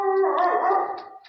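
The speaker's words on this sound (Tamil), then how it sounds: "பக்கத்து வீட்டு நாய் குலைக்குது," A neighbour's dog gives one drawn-out, howling bark that rings loud and close, then fades away.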